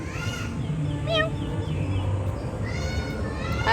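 A cat meows in a Japanese garden, several short, high cries spaced apart against a steady outdoor background hum.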